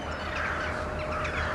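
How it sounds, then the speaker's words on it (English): A large flock of birds calls loudly and constantly in agitation, a dense wall of honking, cawing squawks with no pause or break. "As you can see, the birds are going apeshit."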